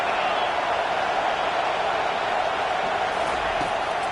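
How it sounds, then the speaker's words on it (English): A packed football stadium crowd roars in a steady, loud wash as fans rally behind the defense on third down, a continuous wall of noise with no pauses. "Decibels rising as the crowd gets behind this defense on 3rd down"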